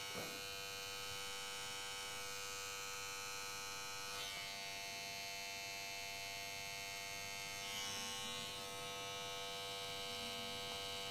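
An electric hair clipper buzzing steadily and closely while shaving a line into a child's short tapered pompadour haircut, a continuous even drone with slight changes in pitch as it meets the hair, no talk.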